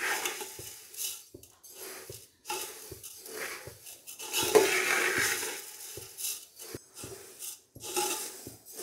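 Poha dry-roasting in an empty pot over a gas flame for Diwali chivda, with repeated scraping and rattling strokes of a spoon against the metal and brief pauses between stirs.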